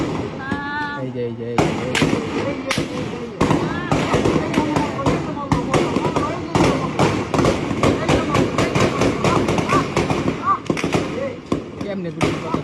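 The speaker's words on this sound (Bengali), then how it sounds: "কেমনে গুলি করতে থাকলো।" Rapid bursts of sharp gunfire crack out in repeated volleys, loud and close, with uneven rhythm over about twelve seconds, while excited voices shout and talk underneath.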